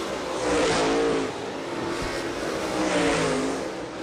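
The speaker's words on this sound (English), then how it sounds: "there's that beautiful looking race car right there" A modified race car engine at County Line Raceway revs loudly in two swelling waves, the harmonic roar climbing and fading as it passes near and then pulls away, with no talk over it.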